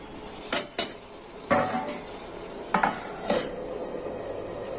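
A lid goes onto a cooking pot of pea curry, giving a few sharp metallic clanks and knocks spaced through the moment, close and fairly quiet over a faint simmering hiss.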